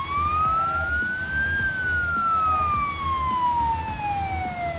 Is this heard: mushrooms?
no